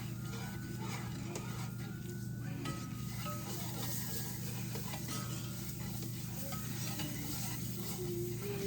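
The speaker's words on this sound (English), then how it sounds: "now we're going to whisk this until smooth" A batter is whisked until smooth in a home kitchen while cooking for New Year's Day, giving a steady, continuous scraping swish that runs unbroken through the whole stretch at a moderate, close level.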